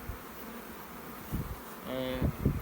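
Honey bees buzzing close by at their hive, a faint hum that swells into a loud, steady drone during the last second.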